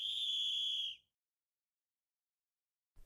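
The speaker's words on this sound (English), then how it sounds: "The whistle blew, and the battle commenced." A referee's whistle at the start of a Coppa Italia final football match between AC Milan and Bologna, a single loud sustained shrill blast lasting about a second, then silence.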